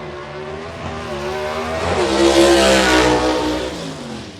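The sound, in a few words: 1955 Chevrolet gasser drag car launching, clutch slipping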